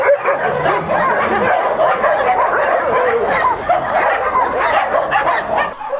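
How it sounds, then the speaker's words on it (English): Many dogs at a Lviv, Ukraine dog sanctuary housing about 300 dogs bark, yip and whimper together in a steady, busy chorus close by, with a few faint voices mixed in. "there's plenty more dogs around here"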